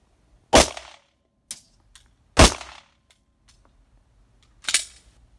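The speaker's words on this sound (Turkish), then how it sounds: "Atış var." Gunshots hit a domestically made ballistic shield during a firing test, three sharp, loud reports spaced a second or two apart with quiet gaps and faint clicks between them.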